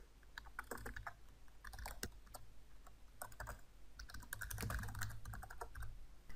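Rapid, continuous typing on a computer keyboard while writing Java code, dense close clatter of keys with a few louder strokes over steady room noise, no voices.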